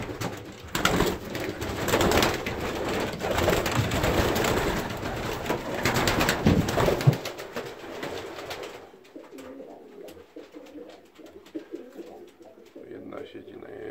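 Old Polish breed pigeons coo in a loft, a dense, loud layer of overlapping calls and rustling for the first half, then thinning to quieter, sparser cooing with a person talking nearby.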